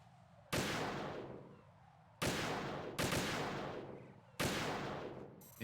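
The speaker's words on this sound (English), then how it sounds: "Gonna swap to the sniper for the rest." Four loud, sharp sniper rifle shots in Metal Gear Solid 2, each cracking suddenly and decaying with a long ringing tail, spaced unevenly apart with quiet gaps between them.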